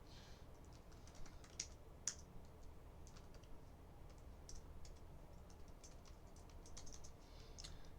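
Quiet keystrokes on a computer keyboard with a faulty O key tap out a short entry in irregular bursts, soft and close, with no talking.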